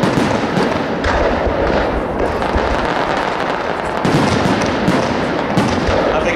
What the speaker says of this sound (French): Bombe dite mosaïque.